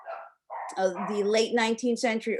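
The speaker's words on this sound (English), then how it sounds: "And I apologize for my dogs right now." Dogs bark and yip in short bursts in a room, mixed under someone speaking.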